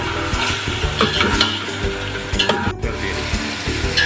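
Vegetables fry briefly in a hot pan for Chinese-style fried rice, sizzling loudly and close while a utensil stirs and scrapes through them in uneven strokes, with no voices.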